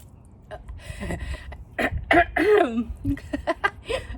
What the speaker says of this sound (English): You get me clearing my throat.